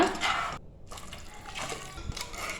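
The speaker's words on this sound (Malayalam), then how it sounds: "ഇനി ഇതിലേക്ക് നമുക്കൊരു 2 കപ്പ് നല്ല ചൂടുവെള്ളം ഒഴിച്ചു കൊടുക്കാം" Two cups of hot water poured into a Kerala-style beef pickle, a close splashing liquid stream with a brief gap partway through, heard alone without talk.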